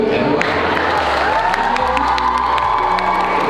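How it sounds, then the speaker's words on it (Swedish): A large crowd cheers and claps steadily, with whoops and shouts rising over dense applause throughout. "jag fick mitt livs mest lättförtjänta applåd"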